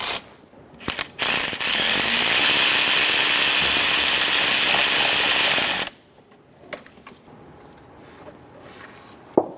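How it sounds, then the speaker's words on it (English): A ratchet backs out the 12mm bolt on the bottom of the serpentine belt tensioner on a 2003-2007 Honda Accord, a loud, steady, rapid clicking whir lasting several seconds, followed by a few faint knocks. "Remove the 12mm bolt on the bottom of the tensioner."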